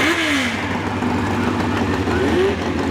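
Motorcycle engine at a club hill climb, revving in rising and falling surges over a steady loud drone, with a crowd and wind around it.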